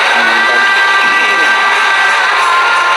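A large crowd applauds and cheers in welcome at a Shri Shiv Mahapuran katha gathering in Chakarwadi, Beed, Maharashtra: a loud, dense wash of clapping and voices that holds steady throughout.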